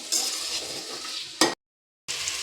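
Vegetables for pulao rice fry in a pan, giving a continuous bright hiss with a louder burst of stirring, then a sudden short silence before the sizzle comes back.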